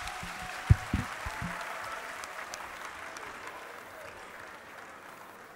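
An audience applauds after a university troupe's stage performance about illegal immigration, a few loud claps up front giving way to sustained, diffuse clapping that slowly fades, with faint voices underneath.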